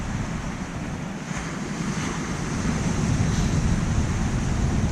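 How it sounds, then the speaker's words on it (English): Waves break and wash onto a Devon beach shore at a wild camping spot, a steady, loud roar of surf with rising swells and wind, no voices. "It's absolutely wonderful just hearing the waves crash on the shore"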